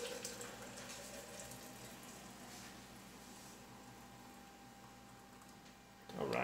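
Water pours steadily into the top of a glass Mr. Coffee 30 oz coffee press, a continuous close splashing hiss that runs throughout and briefly grows louder near the end.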